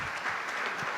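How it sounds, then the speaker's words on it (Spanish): Audience applause at a national catechesis congress, a dense, steady clapping from a crowd that fills the whole moment without a break, with no voices over it. "les pido un fuerte aplauso para la maestra Olga Carcur"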